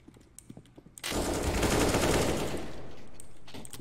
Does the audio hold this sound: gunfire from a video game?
yes